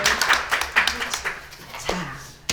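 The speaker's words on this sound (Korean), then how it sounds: "박수." A small group claps hands during a rice food culture education demonstration, giving a scattered run of claps of uneven rhythm that tapers off, with a sharp clap at the end and voices talking alongside.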